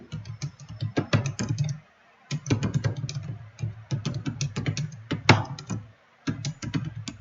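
Rapid clattering keystrokes on a computer keyboard, typed in steady bursts with brief pauses, close and fairly loud, no voices.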